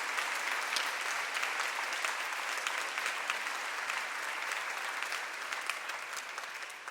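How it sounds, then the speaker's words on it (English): Sustained audience applause fills a hall at a Rutgers Douglass Residential College convocation, a dense, even roar of many clapping hands that holds steady and begins to taper off at the end. "give them a big round of applause"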